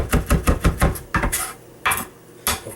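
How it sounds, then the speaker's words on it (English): Knife chopping parsley leaves finely for Maultaschen filling, a quick run of close, hard knocks on a board followed by a few scattered, sharper clatters of utensils. "Just a couple of those parsley leaves. Just for seasoning. Fucking chop up real fine."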